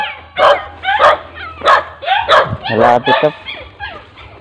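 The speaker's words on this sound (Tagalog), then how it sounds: "Ang tatapang ng aso rito" Several aggressive dogs bark repeatedly in a residential neighbourhood, loud sharp barks arriving in an irregular string of about seven bursts, with a person speaking briefly between them.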